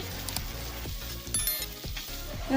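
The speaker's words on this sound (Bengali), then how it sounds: "পেঁয়াজটা একটু ভালো করে ভেজে নিতে হবে।" Onion fries in hot oil, giving a continuous bright sizzle broken by repeated stirring scrapes and clicks of a spoon against the pan, close and fairly loud with no talking.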